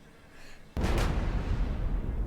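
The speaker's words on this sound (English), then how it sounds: "I like the fact that the explosion was actually delayed." A delayed explosion from the Henry Stickmin Collection video game hits suddenly as a loud, sustained roaring blast with heavy low rumble after a quieter lead-in, heard alone without talk.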